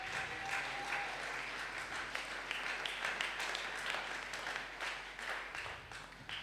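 A church congregation applauds during a Sunday worship service, a steady wash of clapping from many hands lasting several seconds at moderate distance, with faint voices beneath.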